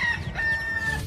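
Chickens and roosters in Ybor, Tampa, cluck and crow up close, a loud rooster call sounding over a busy bed of clucking fowl.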